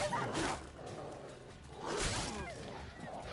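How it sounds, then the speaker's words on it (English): A dog in The Witcher 3 barks and yips in two close bursts, mixed with swishing game sounds and combat noise. "Frickin' dog"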